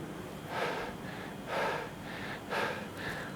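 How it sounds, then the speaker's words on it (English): A person wearing an N95 respirator with a three-ply mask over it and safety glasses breathes three times, each a soft, close, rushing exhale about a second apart, with no speech. "and when you breathe"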